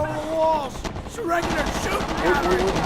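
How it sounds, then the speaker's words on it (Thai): Gunfire rings out in the video game Shellshock 2: Blood Trails, rapid bursts crackling under excited shouting from a player, with a few sharp reports and game effects layered over the voice. "ยิงมันยิงมัน"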